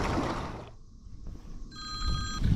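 A mobile phone rings while someone fishes from a kayak on a river, a short electronic ringtone with steady high tones entering near the end over outdoor water and wind noise.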